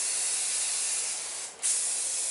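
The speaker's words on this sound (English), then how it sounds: "spray painting it to use it again" Continuous close spray-can hiss as a cleaned-up flower pot stand is spray painted, steady and loud with one brief pause before the spray resumes.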